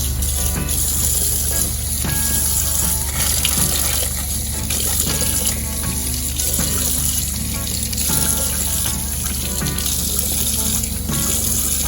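Steady running water from a hot water tap in a Solis 59P camper van, a constant rushing flow that continues unbroken without any talking.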